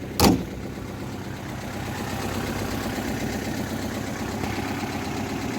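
A car engine idles steadily and evenly throughout, nearby and moderately loud, after one brief sharp click at the start, with no voices.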